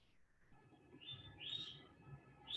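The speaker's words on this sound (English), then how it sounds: "And I hear a very cute bird in the background," A small bird chirps faintly in a quiet room, a few short, high tweets spaced apart, distant and soft.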